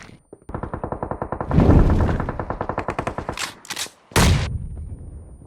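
Rapid bursts of automatic gunfire and explosions in a PUBG Mobile battle, a close, loud rattling volley that builds and stutters, pauses briefly, then returns with a heavy blast.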